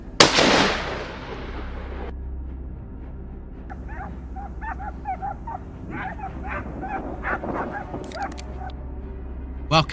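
Hunting dogs tracking wild boars bark and yip repeatedly in short excited bursts at mid distance, following a sharp loud bang at the start.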